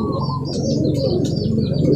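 Racing pigeons coming into the loft after a 74.96 km fun race, with soft cooing and chirps and a few quick flutters of wings over a steady low background rumble.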